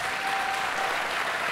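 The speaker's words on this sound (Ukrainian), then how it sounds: "найбільші оплески зараз попрошу вас" An audience at a stand-up comedy show claps loudly and continuously, a dense, even wash of applause with no voices breaking through.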